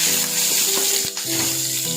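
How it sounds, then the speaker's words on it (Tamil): Curry leaves and green chillies crackle and sputter in hot oil with cloves and spices, a loud, close, continuous sizzle with brief stirring clinks. "அது பொரிஞ்சதும் கருவேப்பிலை, பச்சை மிளகாவையும் ஆட் பண்ணிக்கலாங்க."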